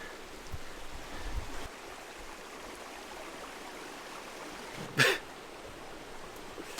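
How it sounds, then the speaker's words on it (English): A stream flows near a wild camping spot in the woods with a faint, steady rushing wash, broken by one brief knock partway through. "you can probably hear the water near me already"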